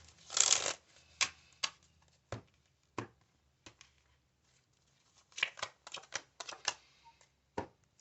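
Tarot cards being shuffled, producing quick riffling flutters and scattered crisp taps in irregular clusters, close and fairly quiet.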